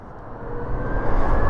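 A BMW CE 02 electric scooter accelerates under throttle in traffic, its smooth motor whine rising with growing wind and road noise over a short run.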